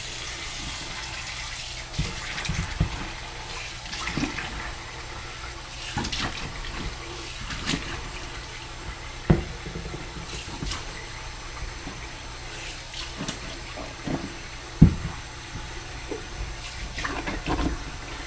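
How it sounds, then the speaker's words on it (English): Fresh water runs from a tap into a basin for boot washing, a steady continuous stream with scattered small knocks and splashes, close and moderately loud. "Get some fresh water."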